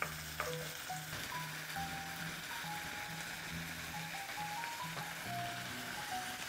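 Minced meat sizzles quietly in a pot while being stir-fried, a faint continuous crackle with soft intermittent scrapes and a low hum running underneath.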